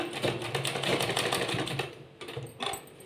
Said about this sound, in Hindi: अब हम लगाएंगे एक टॉप स्टिच